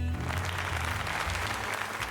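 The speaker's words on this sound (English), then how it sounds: "See, there's the applause right there." Crowd applause from the Pokémon Legends: Z-A video game, a steady, dense wash of clapping that runs loud and unbroken under the game's low background music.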